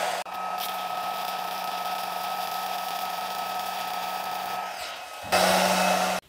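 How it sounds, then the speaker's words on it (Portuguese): An inexpensive welding gun joining two metal plates gives off a steady, close electrical hiss and hum lasting several seconds, then briefly grows louder and harsher before cutting off abruptly. "eu vou fazer uma solda unindo essas duas chapas pra gente ver a resistência da solda"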